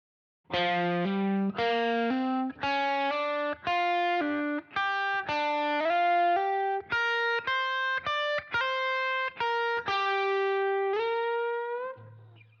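A slow electric guitar lick played alone, a sequence of clean sustained notes with bends and slides, evenly spaced and ringing out near.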